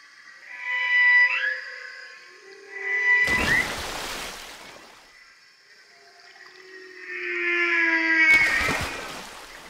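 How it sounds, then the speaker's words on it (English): Whale song drifts in long, melodic moans and wavering tonal cries, rising and falling over several seconds, broken twice by brief loud bursts of rushing noise. "other species, such as blue whales, also produce melodic sounds"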